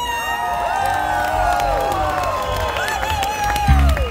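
A concert crowd at a tribute show cheers and applauds, with whoops and whistling voices gliding over continuous clapping and a brief thump near the end.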